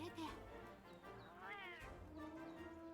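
A palico, the small cat companion in Monster Hunter World, gives a couple of short, high meows over someone talking in the foreground.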